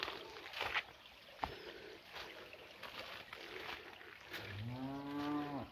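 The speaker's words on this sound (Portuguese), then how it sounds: "um boi berrou ali pra cima" A low, drawn-out bellow from an ox rises near the end, over flowing water and outdoor ambience in the Brazilian caatinga, with a few soft knocks earlier.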